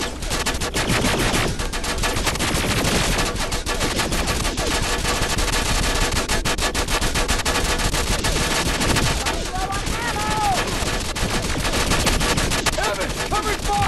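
Sustained machine gun fire in a firefight in the Terminator Resistance video game, dense rapid bursts that stay loud and close for the whole stretch, with shouting voices briefly breaking through near the end.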